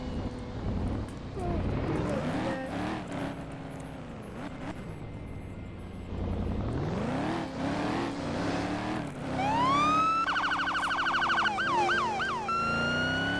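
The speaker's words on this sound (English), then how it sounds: "We'll be having these sirens on just for nothing." Police car sirens in a video game wail and rise and fall continuously, joined later by a faster yelping siren pattern, loud and close, with a rumbling engine beneath.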